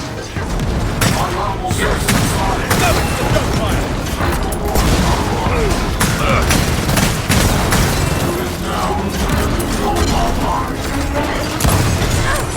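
Gunfire and explosions in the video game Gears of War 4, a dense, continuous barrage of shots, booms and mechanical clatter, loud throughout with voices talking over it.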